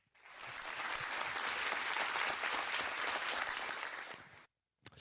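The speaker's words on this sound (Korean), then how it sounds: "여러분들의 힘찬 박수와 우렁찬 휘익 소리로 시작해 보도록 하겠습니다" Audience at a student humanities talk concert applauds loudly and steadily for about four seconds, broad clapping filling the room before it cuts off abruptly; whistling is not distinct within the crowd noise.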